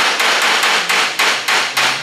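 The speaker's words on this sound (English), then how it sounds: "I explained to you how to use your dolly and hammer" Hammer and dolly knock dents out of a 1956 Cadillac's steel body panel during custom bodywork. About eight sharp, ringing metallic strikes fall in a steady rhythm, loud and close, with no talking.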